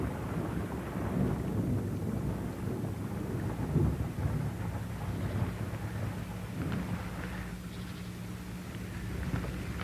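Heavy raindrops falling in a forest, a continuous dense patter with low rumbling underneath, steady and fairly soft throughout with no voices.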